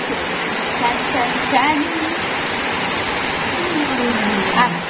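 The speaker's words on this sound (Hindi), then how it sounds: "ये देखो इसमें वो गेट में ना पानी गिरते" Heavy rainwater pours steadily down at a gate as a loud, continuous rushing wash. A voice talks faintly underneath it.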